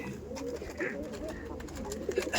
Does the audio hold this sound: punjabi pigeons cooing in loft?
yes